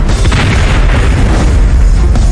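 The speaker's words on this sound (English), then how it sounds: "One firefighter on the front line captures the earth-shaking blast." A loud, deep explosive boom with a sustained rumbling roar that fills the whole stretch, heavy low-end energy throughout.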